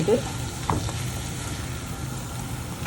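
Sliced tomatoes for fish biryani drop into a hot frying pan, a constant close sizzle with a few brief clinks and stirring knocks over it.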